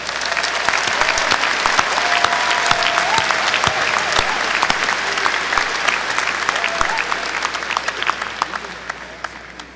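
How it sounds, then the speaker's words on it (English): Sustained applause from a commencement audience for the graduates, dense steady clapping filling the hall for about ten seconds with faint crowd murmur underneath. "Let's give all of our graduates a round of applause."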